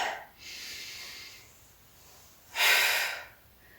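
Breathy exhalations during a Pilates mat exercise: a softer sustained breath early on, then a louder, forceful exhale near the end, close to the microphone with no talking.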